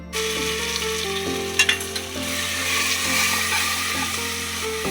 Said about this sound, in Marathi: छान प्रकारे असं मसाला आपण भाजून घेऊ।